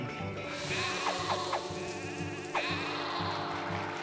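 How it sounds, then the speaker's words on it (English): Sheep bleating in the city-building game Caesar 3, several short wavering bleats over a steady in-game ambient bed, with no talk over them. "these sheep, I will kill them"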